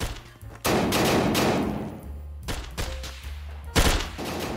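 Video game gunfire sounds in a few heavy bursts, a long rattling volley early on and another sharp burst near the end, with quieter moments between.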